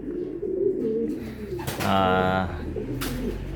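Pigeons coo nearby in an aviary in low, throaty bursts, with other bird sounds and some movement in the background.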